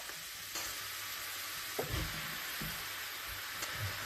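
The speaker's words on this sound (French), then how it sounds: "Donc on remue et on laisse cuire 3-4 minutes." Sliced mushrooms sizzle in a hot pan for a creamy mushroom soup while a utensil stirs them, with a constant frying hiss broken by a few scraping, clattering strokes.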